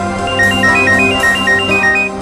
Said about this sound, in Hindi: सर, निखिल का फोन।